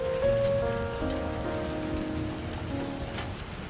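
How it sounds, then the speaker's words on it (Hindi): Steady rain falls in Vancouver on an early-winter day, a continuous wash of droplets pattering on surfaces with faint tonal hum beneath, and no voices. "यही जब बारिशें जब स्टार्ट होती हैं, विंटर्स के आने वाला टाइम जब, जैसे अब टाइम है, तो उस टाइम बारिश का अपना ही मज़ा आता।"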